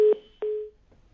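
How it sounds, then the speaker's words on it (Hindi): A telephone disconnect tone sounds after a call drops during a live Hindi TV news phone link: two clear, steady beeps, a short one and then a longer one, followed by near silence. "फोन से संपर्क टूट गया है रवि कालीरमन का"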